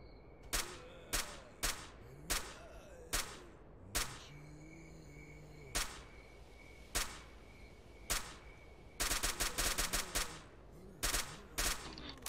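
AK rifle fire in S.T.A.L.K.E.R. Clear Sky comes as a string of sharp single shots with uneven pauses between them, then a rapid automatic burst and a few more shots. The gunfire is loud and close.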